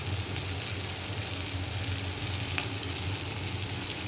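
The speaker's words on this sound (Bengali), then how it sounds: "সব কিছু মশলা দিয়ে একটু মশলাটাকে কষিয়ে নেব।" Spices with turmeric and salt sautéing in a pan: a steady, close hiss of frying that holds evenly throughout, with no voices.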